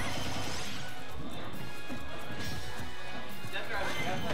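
Forward smash attacks from King K. Rool and Palutena in a Super Smash Bros. tournament match land as sharp crashing hits among dense game effects and crowd noise, under constant excited commentary.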